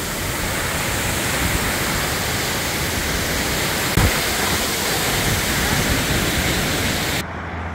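Loud, steady roar of rushing water from a waterfall near Bergen, Norway, broadband and continuous, close by, with no voices.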